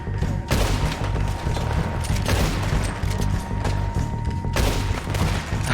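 Rapid bursts of gunfire from Red Dead Redemption 2, several sharp cracking shots clustered in volleys with brief gaps between, loud and close over a low rumbling background.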